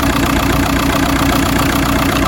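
A Volkswagen Sharan seven-seater engine idles steadily and loudly at close range, a constant mechanical drone with no talk.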